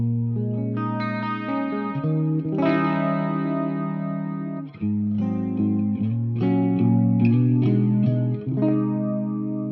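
An electric guitar plays through the clean channel of a Victory V4 amp with chorus and a small plate reverb, ringing chords and melodic notes sustained at steady volume with no talking.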